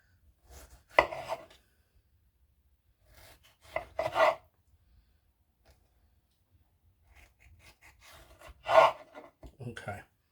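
Tomatoes for a Caprese salad being sliced through with a knife, with a few separate cutting sounds at close range, one around each of three moments, spaced by quiet stretches.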